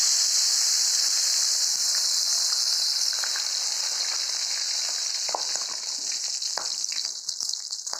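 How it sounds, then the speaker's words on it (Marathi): Cumin and coriander sizzle in hot oil for pav bhaji, a steady close hiss of frying with occasional crackles and pops throughout. "तेल गरम झालेलं आहे. आता आपण त्याच्यात जिरा टाकायचा, थोडा कोथिंबीर टाकायचा"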